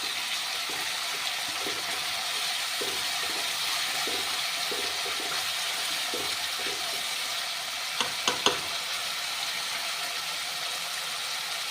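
Moth bean dal with tadka cooks while being stirred continuously, giving a regular rhythm of soft scraping strokes over a steady hiss of sizzling, with a few sharper clinks near the end.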